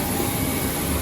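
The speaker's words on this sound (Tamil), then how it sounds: "ஃப்ளைட்டு பிறக்குது பாரு." An airplane on a flight to Goa roars loudly and steadily during takeoff, a dense unbroken engine rush with no voices.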